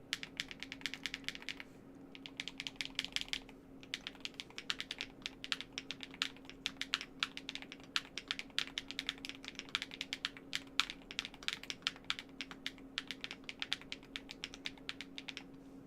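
Close, quiet typing on a Monsgeek M1 v5 mechanical keyboard with Gateron switches: a fast, irregular stream of solid clacky keystrokes with short pauses, over a faint steady hum and no speech.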